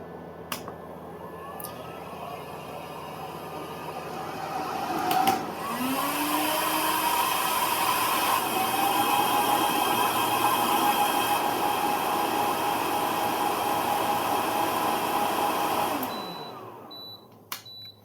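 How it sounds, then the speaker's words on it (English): A heat gun drawing heavy current from a 12V 314Ah Eco-Worthy lithium battery clicks on and rises into a steady fan-driven blowing roar. It runs for about ten seconds and then cuts out abruptly, with no talking. "I have connected the heat gun and let's turn it on."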